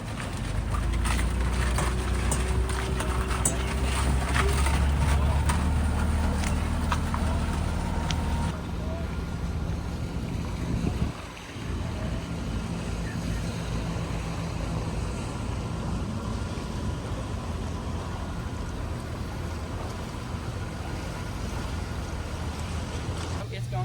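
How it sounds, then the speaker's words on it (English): A catamaran sailing vessel passes on the Intracoastal Waterway with a steady low engine rumble over wind and water noise, loud at first and easing to a quieter, constant wash. "We're waiting for this sailing vessel, a catamaran."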